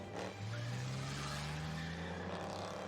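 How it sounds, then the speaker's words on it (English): Continuous engine drone from a car in the video game Shadows Over Loathing, dragging a vault down a street, with a rising tone as it accelerates and a steady rumble throughout, no talking. "I tie the vault to a car and then drive it down the street."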